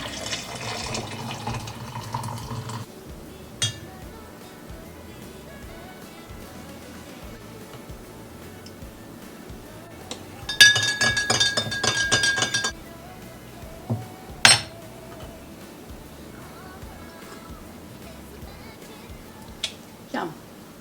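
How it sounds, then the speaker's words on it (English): Glass clinking while coffee is made with coconut oil in a home kitchen, with a brief running-tap fill, a dense rattle of clinks and a few sharp taps, close by, with talking in between. "All right, I'm gonna make my coffee. Let's do a little coconut oil this morning."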